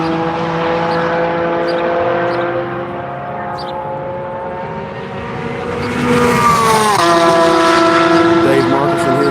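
Dave Marcus's GT3 race car laps the Grattan circuit, its engine droning with sustained tonal whine that dips, then swells louder and brighter as it accelerates and sweeps past.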